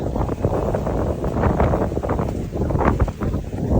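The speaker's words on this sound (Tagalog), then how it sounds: "Rinig na rinig nyo guys, yung hampas ng alon o hampas ng hangin." Steady wind buffets the microphone with a rushing, rumbling roar, and waves surge and break underneath in irregular pulses on a beach in Boracay.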